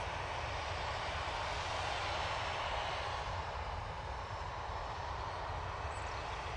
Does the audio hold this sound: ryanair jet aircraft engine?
yes